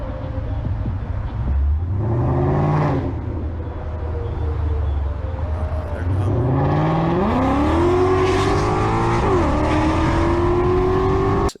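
A Dodge Hellcat engine revs up loudly and accelerates twice, the throaty, very loud exhaust rising in pitch with each pull, close and continuous.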